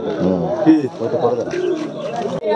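Pigeons cooing at a bustling bird market in Laxmikantapur, soft repeated coos mixed with other bird calls beneath steady nearby talk and crowd chatter.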